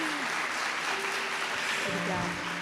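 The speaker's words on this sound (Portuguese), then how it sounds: "Vamos aplaudir, gente." A live church audience applauds in a steady, dense wash of clapping that fills the whole moment, with a voice faintly audible underneath.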